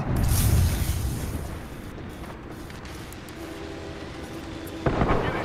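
A grenade goes off in the video game Apex Legends, a loud, deep boom at the start that fades into a rumbling tail, followed by a second sharper burst near the end.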